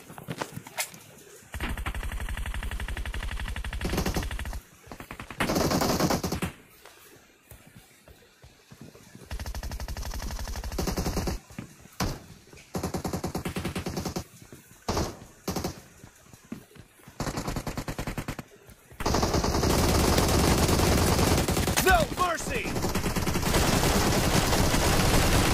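Bursts of automatic gunfire from the mobile battle royale game PUBG Mobile, rapid loud volleys separated by short quiet gaps, with a long sustained burst toward the end.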